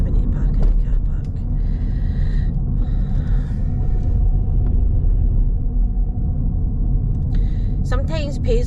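A car drives through the town of Paisley, its engine and tyre rumble steady and close throughout, with faint mechanical creaks and a brief sharper sound near the end.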